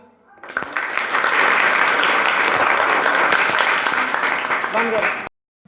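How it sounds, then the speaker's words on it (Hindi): A crowd applauds loudly for a schoolchild's correct answer at an education awareness event, a dense, sustained burst of clapping that stops abruptly near the end. "शाबाश, तालियां"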